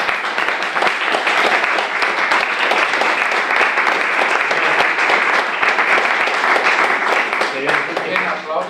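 Sustained applause from a lecture audience at a press café talk, dense and steady throughout, with some voices faintly mixed in near the end.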